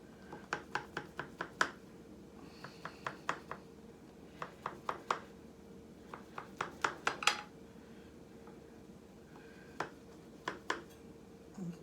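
A knife chops food on a cutting board while an Egyptian meat pie is prepared in a home kitchen, sounding as clusters of sharp, close taps in irregular bursts with short pauses between them.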